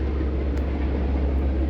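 Military planes passing overhead make a deep, continuous roaring rumble, steady and fairly loud with no voices.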